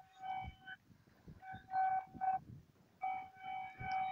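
A passing passenger train sounds its horn in several short, tonal blasts separated by gaps, heard at moderate distance over faint rumble.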